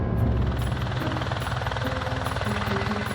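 A helicopter runs close by with a loud, steady engine roar and a rapid, rhythmic rotor chop that continues without break.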